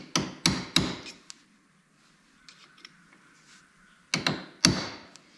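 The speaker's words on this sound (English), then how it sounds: "you can take a punch and a hammer" Sharp metallic taps of a hammer on a punch staking a bolt on a Honda ATC 250es three-wheeler: three quick strikes, a pause with faint background, then three more, close and crisp.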